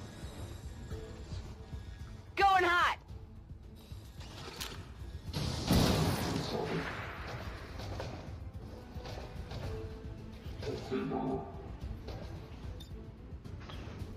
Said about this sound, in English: Fire rocket launcher!